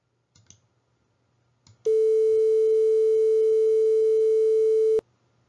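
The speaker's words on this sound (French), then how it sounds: "Il s'agit de la tonalité d'invitation à numéroter en France." A French telephone dial tone sounds as one clean, steady continuous pure tone for about three seconds, loud and alone, cut off abruptly after a few faint clicks before it starts.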